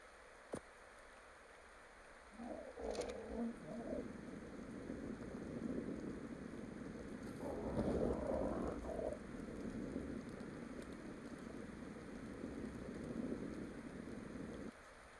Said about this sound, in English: And now it's raining.